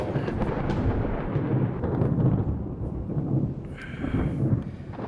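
Thunder rolls and rumbles alongside steady rain during a storm in a naval combat game, a loud continuous wash of low rumbling with hissing rainfall and no talk.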